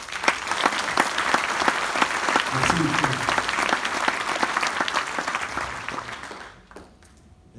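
A conference audience in Castelmaurou applauds in a full, sustained burst that tapers off near the end, with a brief spoken thank-you over it.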